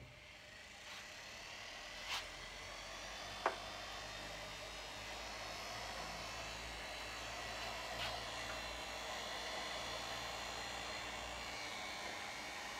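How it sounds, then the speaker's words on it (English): A power tool buffs a wooden kitchen table top, giving a steady, fairly quiet whirring drone that runs unbroken through the stretch, with a couple of brief faint knocks and no talking. "I am going to try and start buffing"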